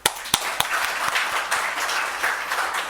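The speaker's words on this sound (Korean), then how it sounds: "자, 하나님 앞에 박수합시다." A congregation applauds during a Sunday afternoon service at Dongseung Holiness Church. A few sharp claps ring out first, then swell into dense, steady, fairly loud applause that carries on throughout.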